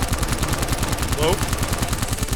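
Rapid automatic gunfire in the VR shooter game Silicon Rising, a loud, steady stream of shots that fills the whole stretch.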